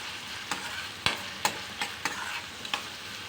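Onion and vegetables being stirred and fried in a pan for macaroni cheese pasta: a soft, steady sizzle with about six sharp scrapes of the spoon at irregular intervals, close and fairly quiet, with no talking.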